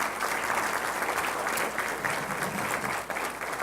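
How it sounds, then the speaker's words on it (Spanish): Church congregation applauding together, a steady dense wash of clapping that holds evenly for the whole span with no voices rising above it. "Vamos a dar un aplauso al Rey Jesús."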